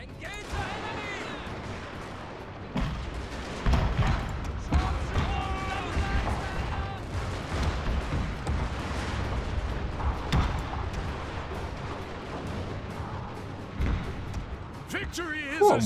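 Gatling guns firing in a video game battle, bursts of rapid gunfire and dull thuds layered over constant battle noise, with someone speaking throughout.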